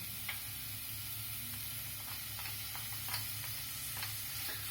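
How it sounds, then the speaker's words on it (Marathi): Crushed garlic and ginger sizzling in hot oil for corn pulao, a soft, steady frying hiss with a few faint stirring clicks, fairly quiet and without speech. "आता तेल तापल्यावरती आपण त्याच्यामध्ये ही क्रश केलेली लसूण घालणार आहे आणि आलं घालणार आहे"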